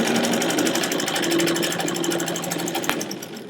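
A Kenmore Model 83 pulley-drive sewing machine runs steadily at close range, its motor whirring and needle mechanism chattering in a fast, even rhythm for the whole stretch, with one sharp click near the end and no voices.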